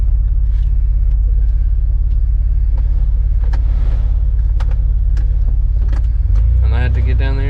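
A Jeep engine idles loud and close with a steady low rumble, then stumbles and surges near the end as it struggles to stay running in warm weather.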